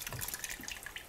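Diced tomatoes and sautéed vegetables are poured into a pot of pasta sauce, giving a quick, wet, splattering splash with small drips over about a second, fairly quiet and close.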